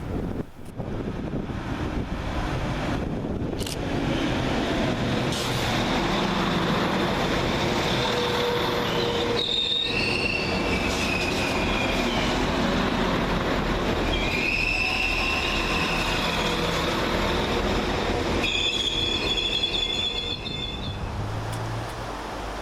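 A pair of Class 195 diesel trains roll through Newton-le-Willows station, a loud sustained rumble of wheels on rail with squealing flange tones rising and falling throughout, close by and with no talk.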